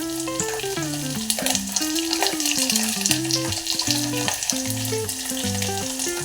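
Fresh peas, carrot, beetroot, beans and cauliflower sizzle loudly in oil as they are stirred for bisi bele bath, a constant close frying hiss with scraping, over background music.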